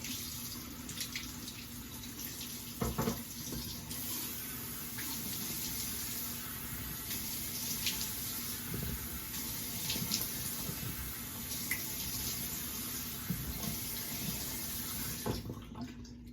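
Tap water runs steadily into a sink while someone rinses after a wet shave, with small splashes and hand movements in the stream, fairly quiet and unbroken until it stops near the end.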